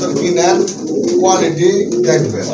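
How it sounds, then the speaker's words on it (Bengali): Pigeons cooing continuously in low, rolling bursts, close by, with some background chatter mixed in. "অস্থির লেভেলের এক জোড়া কবুতর"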